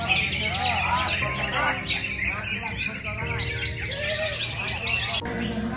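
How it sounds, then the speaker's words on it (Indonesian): Several contest songbirds, including cendet, murai, caijo and labat birds, chirp, whistle and trill together at a bird-singing competition in Bangkalan, Madura, a dense, loud chorus of overlapping calls with a low murmur of crowd beneath. "Di sini burung yang diperlombakan yaitu burung cendet, burung murai, burung caijo, dan burung labat."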